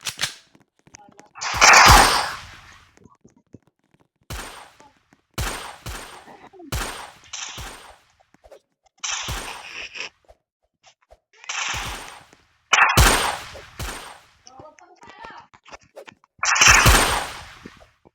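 Gunfire in what appears to be a game, with sharp bursts of shots and short volleys coming in repeated clusters and separated by quiet gaps, mostly single cracks with a few rapid strings.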